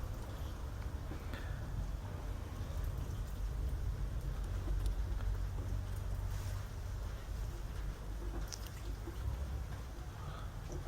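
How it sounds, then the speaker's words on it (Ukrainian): Steady rain falling outdoors in dim evening light during livestock work, a continuous broadband patter with a low rumble, constant and moderately loud throughout, with no one talking. "тільки вирішив зняти, почався дощ"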